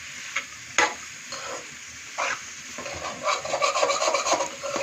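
Onions cook in a pan while a utensil stirs and scrapes through them, giving a soft sizzle with intermittent scraping strokes that grow busier toward the end, close and without talking.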